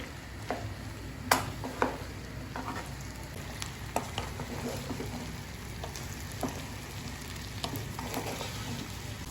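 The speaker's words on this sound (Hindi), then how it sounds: "भिंडियों को अच्छी तरह से हम फ्राई करेंगे।" Okra frying in ghee in a pan, with a steady sizzle and repeated scraping, clattering stirs of a spoon against the pan, close and continuous with no talk.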